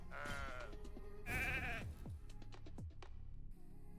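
Sheep bleats from a video game sound in two loud, wavering cries close together, followed by quieter game effects and clicks.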